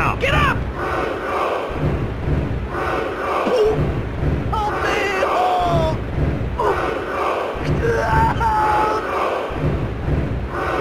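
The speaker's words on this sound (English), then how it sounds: "Man, this crowd is all pumped up." A pumped-up arena crowd roars and cheers in the WWF Attitude wrestling video game during a Gangrel match, a steady loud din with scattered thuds and bursts of shouting.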